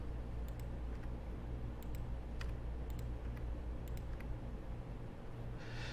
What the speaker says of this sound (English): clicking my delete button on the keyboard